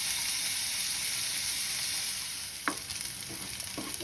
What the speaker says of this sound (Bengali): আগে এটা লাল লাল করে ভেজে নিই